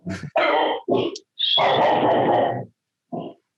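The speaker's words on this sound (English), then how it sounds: "The dog agrees with you." A dog barks and grunts in a run of loud, close vocalisations with one long drawn-out howl-like bark, followed by a short final bark after a pause.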